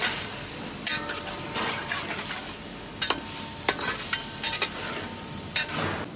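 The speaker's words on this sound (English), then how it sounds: "We add yogurt and then we slowly stir it." Yogurt for biryani is slowly stirred and reduced in a pot, a soft bubbling simmer punctuated by repeated scraping and knocking of a spoon against the pot's sides.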